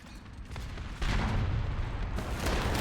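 A T-44-122 tank gun fires in War Thunder, a heavy booming shot with a broad rumbling tail over continuous battlefield background noise.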